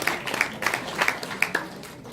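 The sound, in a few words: audience applause for a junior cyclist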